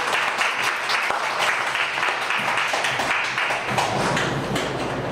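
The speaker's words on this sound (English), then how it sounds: "A round of applause, please." Sustained applause from an audience at a young lawyers' association cocktail event in Montreal, a dense steady clapping that fills the room for the whole stretch with no voices over it.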